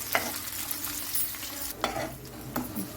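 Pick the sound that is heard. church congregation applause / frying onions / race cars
frying onions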